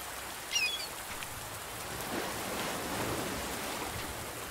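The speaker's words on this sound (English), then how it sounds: "Good, it's raining, okay?" Steady rain falls in a survival video game, a soft continuous hiss that fills the scene at moderate level with no talk over it.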